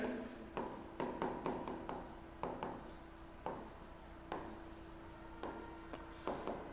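Pen or marker strokes on a board while a bank journal entry is written out, a series of short scratchy taps and rubs in an irregular rhythm, close and fairly quiet, with no talk over them.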